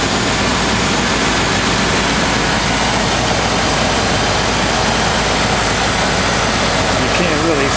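A 2000 Land Rover Discovery II with a bad MAF sensor idles close by, a loud, steady broadband engine roar that runs unbroken throughout with no other sounds over it.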